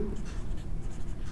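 Chalk or marker writing on a board during a Bengali secondary-school math lesson on real numbers, a steady scratchy stroke sound running through the short moment, fairly close and without talk.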